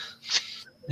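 A person sneezes once during an online football fans' call, a short, breathy burst heard faintly over a remote connection, with no talk.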